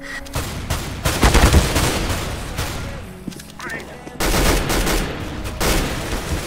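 Gunshots in a CS:GO competitive match, with repeated loud shots and short bursts in uneven clusters throughout. Voices talk over the firing.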